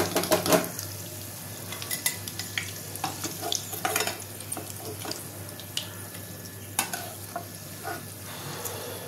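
Coconut pakoras crackle and sizzle steadily in hot oil while utensils clink and stir now and then in a busy kitchen, with no voices.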